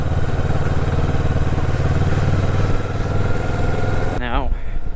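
Motorcycle engine held loud and close in second gear as a rider eases off the clutch, a steady droning rumble for most of the run before it changes character near the end, with a voice talking over it.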